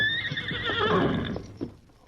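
A horse lets out a single loud, close whinny that rises and trails off, followed by a couple of soft thumps, in a Western radio drama setting.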